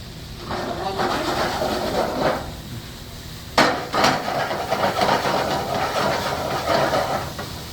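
Pork cartilage stir-fried with vegetables in a pan over a raised flame gives off a steady, loud hiss of sizzling, broken by a sharp metallic clank about midway and continued scraping and tossing.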